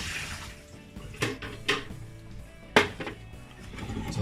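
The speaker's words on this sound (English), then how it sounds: "so I'm going to tip it down the sink." Water from an espresso machine's tank poured down a kitchen sink, a low splashing wash with a few sharper bursts as the stream lands, moderately close and alone.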